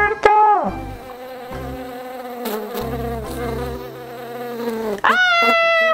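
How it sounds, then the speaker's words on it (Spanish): A buzzing bee chases a wolf in a children's witch story, a loud, droning buzz that holds for several seconds, cuts off briefly, then starts up again. "¡Le persigue una abeja!"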